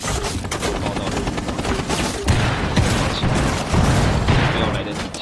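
Dense video game gunfire, rapid overlapping shots and bursts that continue without pause throughout, loud and close, with a heavier run of hits in the second half.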